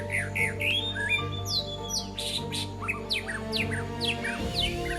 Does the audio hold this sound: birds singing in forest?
yes